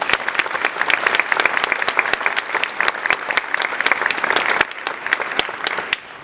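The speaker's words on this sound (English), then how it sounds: "An even larger round of applause." A crowd at an honor society induction claps steadily, with distinct individual claps standing out, before the applause thins slightly near the end.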